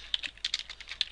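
Fast typing on a computer keyboard, a close run of light, crisp key clicks in an uneven rhythm with a few sharper taps standing out over about a second.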